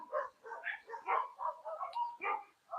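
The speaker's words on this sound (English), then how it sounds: "Oh my goodness, all the dogs are barking." Several dogs bark and yip in short repeated bursts, steady and fairly close, with no talk over them.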